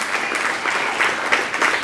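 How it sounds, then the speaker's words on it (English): Sustained audience applause fills a women-of-the-year awards ceremony, a steady, dense clapping with no talk over it. "we need to give DESH a round of applause for who she is"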